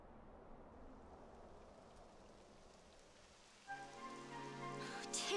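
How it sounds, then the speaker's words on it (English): Soft, steady rain in the game Dragon Quest 11 S, a faint continuous patter that is joined partway through by a brighter tonal musical layer. "It would have to go and start raining, wouldn't it?"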